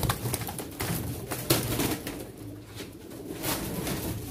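Pigeons coo at a pigeon auction in Çorum, Turkey, a steady dense murmur of many birds with brief louder flutters and rustles, close and continuous throughout.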